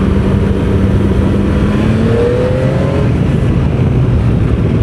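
A powerful motorcycle in street mode pulls hard, its engine note loud, close and rising in pitch as it accelerates, with a continuous roar and no voices.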